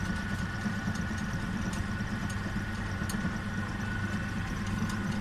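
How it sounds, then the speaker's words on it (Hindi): An industrial mixing machine churns liquid detergent made from shampoo base and sulphonic acid, giving a steady, continuous low motor drone with a constant rumble throughout and no speech. "मैं आपको इसके अंदर से दिखाता हूँ कि मिक्सिंग कैसे करती है मशीन"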